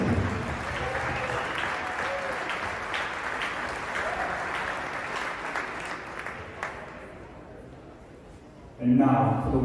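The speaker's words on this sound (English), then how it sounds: "Let's give a round of applause to Erik Kelsen." Applause in an arena at a collegiate men's gymnastics championship, honoring a judges association figure; sustained clapping that slowly fades, then an amplified voice starts speaking near the end.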